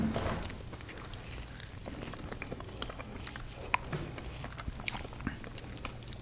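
Close, soft crunching and chewing of an old fashioned donut, with small bites and moist mastication sounds over a quiet background and no talking.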